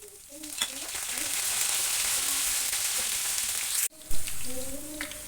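Green chillies, dried red chillies and curry leaves fry in oil for a Kerala lemon pickle, giving a dense, even hiss with a brief cut midway, then a louder burst of sizzling.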